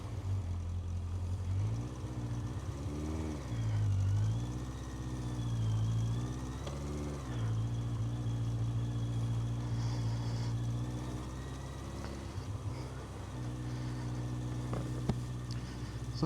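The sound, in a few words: 1980s Yamaha XJ900 motorcycle engine running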